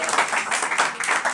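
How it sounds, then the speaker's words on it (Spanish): A church congregation claps together in a dense, fairly loud burst of applause that lasts briefly, with no clear voices over it. "Si lo cree, déle ese aplauso al Señor."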